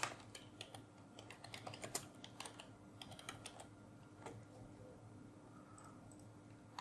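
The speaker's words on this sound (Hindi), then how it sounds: "तो सबसे पहले मैं यहाँ पे एक टेक्स्ट टाइप करता हूँ" Typing on a computer keyboard to enter text into CorelDraw sign-design software, with fast, uneven clusters of light clicks and taps at close range against a low hum and no talking.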